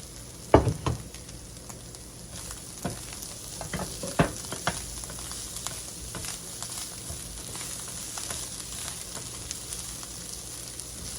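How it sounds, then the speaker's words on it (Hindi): A small chopped onion sizzling quietly in a pan with keema for samosa filling, a soft steady hiss broken by a few sharp clicks of stirring near the start. "इसके साथ ही इसमें हम डालेंगे ये प्याज। 1 छोटा प्याज मैंने चॉप कर लिया।"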